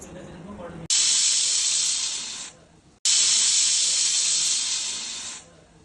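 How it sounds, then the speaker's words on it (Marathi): Steam hisses from a pressure cooker of lentils on the stove in two loud, close bursts, each about two seconds long and trailing off, with a short quiet gap between them. "ही डाळ आपण आता कुकरला लावलेली आहे. याला 3 शिट्ट्या होऊन द्यायच्या."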